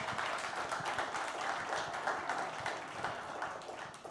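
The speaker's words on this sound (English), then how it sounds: "Can we get a round of applause for them?" An event audience gives a round of applause in a conference setting, a steady wash of clapping that holds at an even level for about four seconds with no break.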